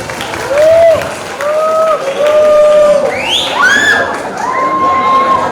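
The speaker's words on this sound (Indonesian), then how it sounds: "Tepuk tangannya dong." Loud crowd at an Indonesian Paslon 1 campaign rally, with children shouting and cheering in rising, sustained whoops and some clapping mixed in, continuous throughout.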